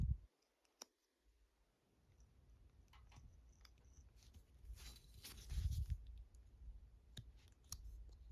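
A knife cuts and carves wood on the eyes of a carved face, giving soft scraping strokes and small clicking nicks that build up over several seconds, close and quiet with a brief sharp tap early on.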